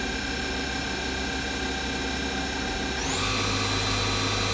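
A used 2014 Doosan Puma 2600Y CNC lathe spindle whirs at 2000 RPM, a steady close mechanical whine that steps up in pitch and loudness partway through as speed changes.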